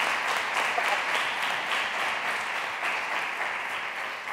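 Steady applause from an audience at an institutional ceremony for signing a citizen participation protocol, a dense continuous patter of clapping that stays loud throughout.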